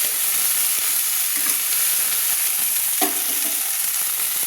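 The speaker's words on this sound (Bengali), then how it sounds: "একটু আমি লবণ দিয়ে দিলাম, দিয়ে ভালো করে নেড়ে নিলাম।" Cauliflower fries in oil with salt for vegetable khichuri, a steady loud sizzle filling the whole stretch, with a few scraping stirs of the spoon against the pan.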